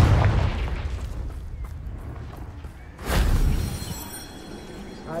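Two booming blasts from the Confringo spell in the Hogwarts Legacy video game, one at the very start and a louder one about three seconds in, each trailing off into a rumbling decay.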